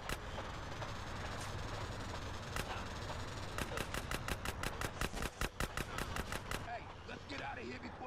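Rumble of a train in the video game GTA San Andreas, heard with a rapid burst of repeated gunfire-like shots in the middle section and fairly faint overall.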